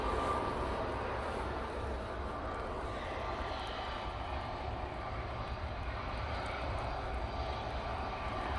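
Jet2 Airbus A320neo jet engines at Manchester Airport on a windy day, a steady broadband roar that holds at a constant, fairly distant level, with no talk.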